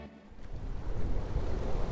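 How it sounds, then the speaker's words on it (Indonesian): Wind rising during a staged retelling of the Elijah and King Ahab rain story: a low, rushing gusty roar that swells from quiet to steadily louder over two seconds, with no voices. "Angin mula bertiup."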